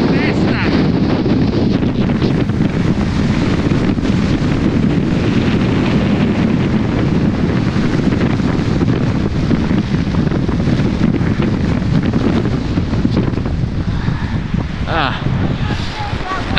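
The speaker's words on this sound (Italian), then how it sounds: "Arrivano delle raffiche di vento che sono veramente micidiali, saranno almeno a 120 km all'ora." Violent storm winds of at least 120 km/h roar across the open tundra at a Nenet nomad camp, a loud, unbroken blast of buffeting gusts battering the microphone for the whole stretch.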